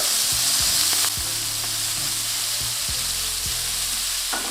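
Garlic, fresh thyme and knobs of butter land in a hot steak pan and sizzle loudly and steadily close by. Short scraping strokes cut through the frying.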